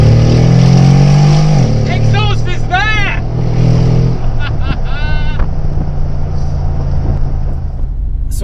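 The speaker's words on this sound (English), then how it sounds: "This has side exit exhausts." A Brabus G700 Widestar with side exit exhausts revs hard, a deep throaty engine roar swelling then settling to an idle-like rumble, close and loud, with someone talking over parts of it.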